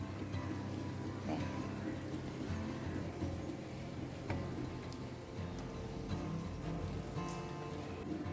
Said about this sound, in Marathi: सुबह से ना बारिश हो रही है